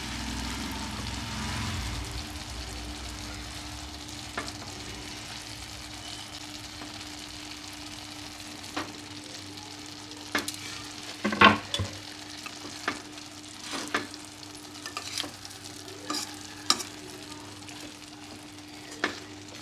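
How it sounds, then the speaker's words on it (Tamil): Egg gravy bubbling and frying in a pan, a steady low sizzle with a few sharper clinks and spoon knocks in the second half, close and without speech. "இந்த முட்டையை ஒன்று போட்டுடலாங்க. இது நல்லா கொதிச்சிட்ருக்கு."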